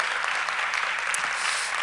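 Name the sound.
congregation applauding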